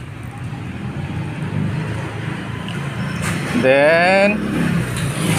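Powerful big motorcycles, including a Yamaha MT-10, rev loudly nearby on a group ride, a steady engine roar rising to a brief higher-pitched rev near the end, with a voice speaking over it.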